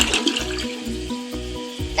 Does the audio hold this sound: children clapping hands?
no